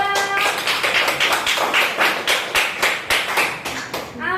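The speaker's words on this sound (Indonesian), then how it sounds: "kasih tepuk tangan untuk kelompok 3" A small group claps steadily for several seconds in a classroom, a close, lively round of applause for a student group's presentation, with no talking.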